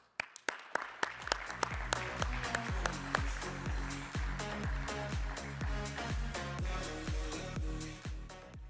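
An audience applauds a panel speaker, starting with a few sharp, separate claps that swell into a dense, steady round of applause lasting several seconds.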